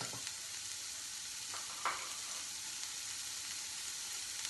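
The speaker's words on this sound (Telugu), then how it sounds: "ఉల్లిపాయలు కొంచెం వేగనివ్వాలి." Two medium-size onions fry in a pan for a mixed vegetable curry, giving a steady, even sizzling hiss throughout, with a couple of faint clicks from the pan and no talking.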